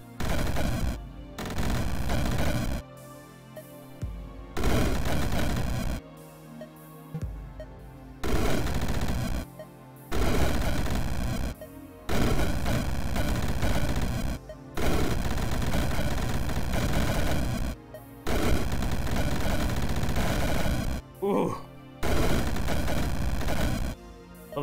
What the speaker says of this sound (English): Those chained explosions when they go off.